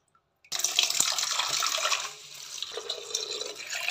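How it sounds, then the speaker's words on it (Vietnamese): Purslane greens being washed in water, with silence followed by a sudden rush of running, splashing water close by that continues and then eases a little, with no talking. "Mình rửa cái rau trai ha, mình rửa vài ba nước cho sạch ha."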